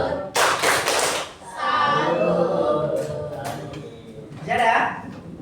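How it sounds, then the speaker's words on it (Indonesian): Students in a classroom doing a rhythmic salute clap, bursts of hand claps and thumps in short patterned groups, with voices chanting and talking between and over them. "Berikan tepuk salut."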